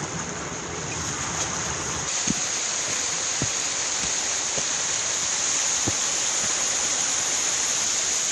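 A river on Blackden Moor rushes in a constant, close hiss, with a few soft knocks and footfalls near the bank and no voices.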